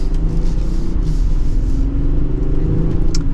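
A 2024 Range Rover Sport Dynamic accelerates, its engine giving a loud, steady low rumble that gradually rises in pitch, heard from inside the cabin with road noise underneath.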